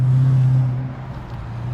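A 2012 Dodge Challenger SRT8 with the 6.4-litre HEMI V8 and an aftermarket exhaust gives a short, deep, loud engine roar that swells briefly and then settles to a rumbling idle, with no voices.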